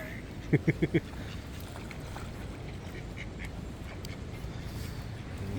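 Four quick, loud duck quacks in a burst as ducks are fed, then steady outdoor background noise with a faint breeze.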